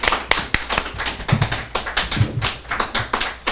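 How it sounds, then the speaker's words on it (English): Audience applause at an art award ceremony, heard as irregular, sharp claps from a small group close by, scattered rather than a dense roar. "Let's receive her with a round of applause again."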